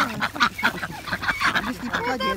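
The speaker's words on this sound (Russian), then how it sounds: "Гуси, га-га-га." Several geese honk and call in quick, overlapping bursts nearby, a noisy flock chattering, with swans present on ice.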